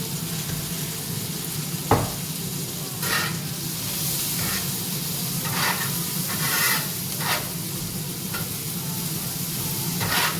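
Bacon fat and onions sizzling in a pan while a spatula stirs them, a loud steady hiss broken by repeated scraping strokes and one sharp knock early on, close and without speech.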